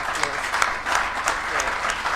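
Steady applause from an audience at an annual ethics lecture, a dense patter of clapping at moderate level that continues evenly for a couple of seconds with no talk.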